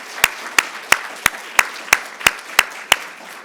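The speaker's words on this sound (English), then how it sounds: "If you can join me in giving those first 5 a round of applause." Nine sharp, evenly spaced hand claps ring out at a steady rhythm, sounding like a single clapper close by rather than a full crowd, at a Three Minute Thesis competition.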